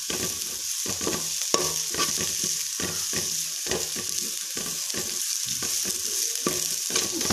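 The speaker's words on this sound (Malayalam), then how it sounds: "നല്ലതുപോലെ മിക്സ് ചെയ്ത് ഇളക്കി കൊടുത്തോണ്ടേ ഇരിക്കണം കേട്ടോ." Cabbage thoran cooks in a pan, with a steady soft sizzle of frying under repeated scraping strokes of a spoon stirring the shredded cabbage at a regular rhythm, close and alone.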